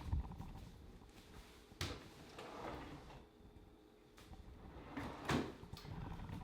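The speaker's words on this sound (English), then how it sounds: "I have a drawer where I keep all of my ingredients" A kitchen drawer holding food ingredients slides open with a few soft knocks and scrapes, quiet and close, amid faint room noise.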